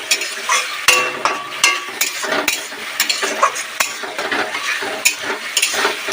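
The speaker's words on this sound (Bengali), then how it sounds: "আগে থেকে মিক্সিতে পেস্ট করে রাখা টমেটো পিউরি, দিয়ে আরও ভালো কিছুক্ষণ কষাবো" Tomato puree with spices is stir-fried in a pan for a jackfruit and prawn curry. A spatula scrapes and clinks against the metal repeatedly over a steady, close sizzle, with no voices.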